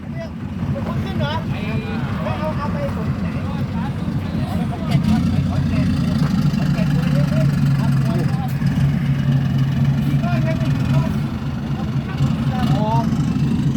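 Engine of a souped-up Thai kratae farm cart fitted with an alternator, a steady low drone running throughout at a close, even level while people talk over it.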